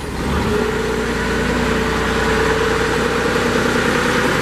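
A Kubota engine on a 2017 Princeton PB55.3 piggyback forklift cranks over briefly and then settles into a loud, steady idle with a constant low hum.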